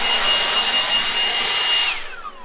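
A Milwaukee blower blasts debris off a roof deck on a garage addition build, a loud close whine that holds steady, then cuts off and winds down in the final half second.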